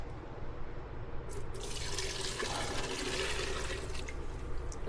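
A milk and cream mixture pours steadily from a container into a dish, giving a continuous close liquid splashing and trickling that lasts several seconds with no talk.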